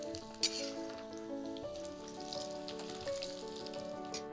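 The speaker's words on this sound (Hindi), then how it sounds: "और ये भी उसी तेल में फ्राई कर ली।" Cashews, garlic and ginger fry in hot oil, a steady soft sizzle heard close but quietly beneath a faint sustained tonal background, with a few light clinks.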